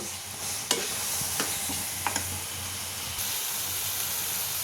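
Carrot halwa being stirred in a pan, with a steady frying sizzle and a few sharp scrapes of the spoon against the metal, close and continuous with no talking.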